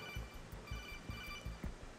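The codec phone in the Metal Gear Solid 2 video game rings steadily, with repeated ring pulses at an even rhythm. It sounds close and clear, and nobody talks over it.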